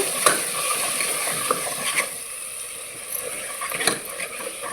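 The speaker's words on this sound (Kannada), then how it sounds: "ಖಾರ ಹಾಕೊಂಡಿದ್ದೀನಲ್ವ ಇದರಲ್ಲಿ ಚೆನ್ನಾಗಿ ಫ್ರೈ ಮಾಡ್ಕೋಬೇಕು" Masala with chili powder fries in a pan, a close, continuous sizzle broken by scraping stirs at irregular intervals.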